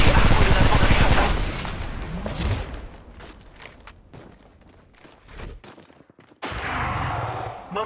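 Rapid bursts of automatic gunfire in the shooter game Apex Legends Mobile crackle loudly at the start, thin into scattered shots and footsteps, then swell again near the end.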